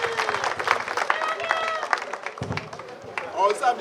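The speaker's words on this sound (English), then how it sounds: "Let's give them a round of applause for that." A crowd at a steelpan band preliminary competition in Trinidad's South Central region claps in a thick burst of applause, mixed with cheering voices and chatter for nearly four seconds.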